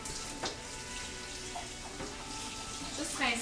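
Tap water runs steadily into a kitchen sink while something is quickly rinsed, a continuous close splash with a few brief clatters and a louder burst near the end.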